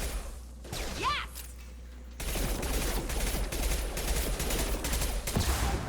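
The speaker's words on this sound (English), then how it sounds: "I hate this machine pistol so much" Rapid automatic fire from a machine pistol in the Mass Effect 2 Legendary Edition combat, opening with a quick whoosh, then a dense, continuous burst of gunfire with impacts running loud and steady to the end.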